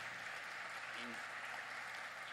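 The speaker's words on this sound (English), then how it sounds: "I would like to invite you to give him a round of applause" Audience applause at a cardinal's closing ceremony, faint and steady, a dense wash of clapping with some voices mixed in for a couple of seconds.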